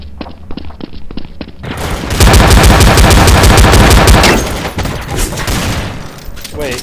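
Loud rapid bursts of machine pistol fire in Counter-Strike Source, a sharp sequence of single shots giving way to a dense fast-firing volley, then a sustained booming tail, heard close with game noise around.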